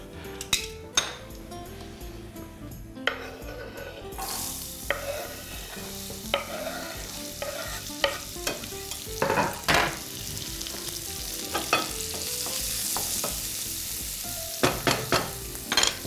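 Vegetables fry in bacon fat in a pan. A close, continuous sizzle grows louder partway through, and frequent clinks and scrapes of a utensil stirring against the metal pan cut through it. No one speaks.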